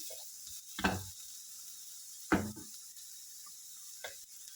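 Onions soften in a pan with a faint, quiet sizzle, broken by three short bursts of spatula stirring and scraping, close by.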